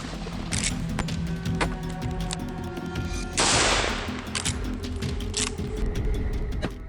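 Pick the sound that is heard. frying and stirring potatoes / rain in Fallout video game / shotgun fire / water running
shotgun fire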